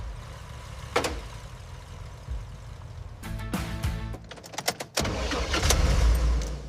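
A restored 1985 Mercedes-Benz 280 GE G-Wagon engine cranks and starts after a few clicks and rattles, then settles into a loud, steady low rumble that fills the final seconds.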